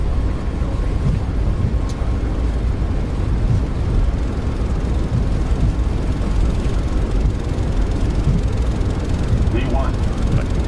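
Airliner jet engines spooling at takeoff thrust in a flight simulator game, a loud, steady broadband roar that holds throughout, with faint cockpit sounds near the end.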